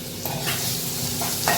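Onion, tomato and garlic cooking in a pan in a home Agri-style monsoon wild vegetable dish, giving a steady close sizzle with a few louder stirring scrapes.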